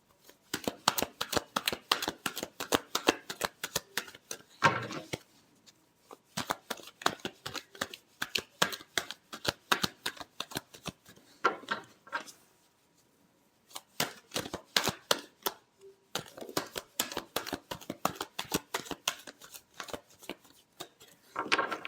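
A deck of tarot cards is shuffled over and over, giving rapid fluttering riffles in bursts of several seconds separated by brief pauses. The sound is close and crisp, with no talking.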